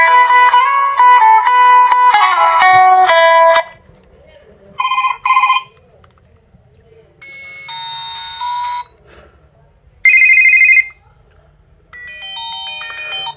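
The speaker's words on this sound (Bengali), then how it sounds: "চলুন আমরা দেখে নেই যে ফোনটির রিংটোনের সাউন্ড কেমন ছিল।" Built-in ringtone of a SIMBA C5000+ keypad mobile phone: loud, bright electronic melodic tones played in several separate bursts with short silent gaps, sounding like a series of different sample ringtones.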